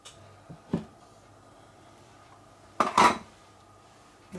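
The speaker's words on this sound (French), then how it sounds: "Et on va remuer pour le mélanger" Marble muffin batter being stirred in a small plastic container, heard as two or three short scraping, clattering bursts, the loudest near the end, with quiet gaps between and no talking.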